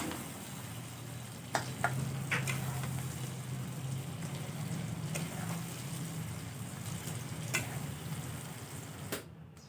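Greens fry in fish oil, giving a steady close sizzle with occasional clinks and scrapes of stirring in the pan.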